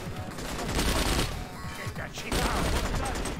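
Gunfire in the video game Wheelman, rapid bursts of shots rattling close and loud with brief gaps, dense and sustained throughout.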